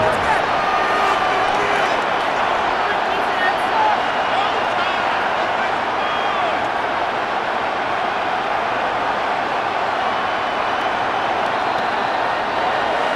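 A Madden NFL 26 stadium crowd roars steadily and loudly as the Commanders face 3rd and goal against the Broncos, a continuous wash of noise with commentary running over it.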